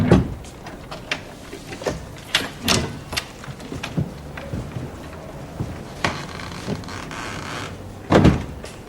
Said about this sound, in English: Open the door, please.